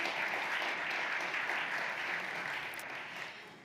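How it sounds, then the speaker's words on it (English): Steady audience applause at a community conversation event, a dense wash of many hands clapping at even loudness that tapers slightly toward the end. "So another round of applause for Tony for taking over for me."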